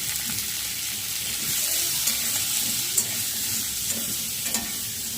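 Cut potatoes fry in a pan with salt and turmeric, giving a steady, close sizzle with faint scraping and stirring sounds throughout.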